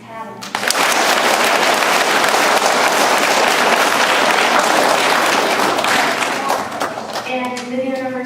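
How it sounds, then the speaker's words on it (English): A large audience claps to cast a vote, a loud, dense wall of applause that starts abruptly, holds steady for several seconds and then fades, with voices heard at the start and end. "clap your hands if you think it was tattling."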